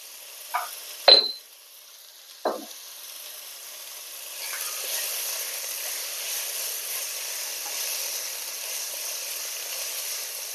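Onions sauté in a pan with salt and turmeric powder. A few sharp clinks of a utensil come first, then a soft, steady sizzle builds and keeps going.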